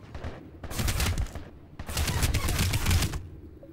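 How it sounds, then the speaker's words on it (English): Gunfire in the online shooter Planetside 2, two sustained bursts of rapid automatic shots with a short break between them, loud and close. "Got some idiot shooting me."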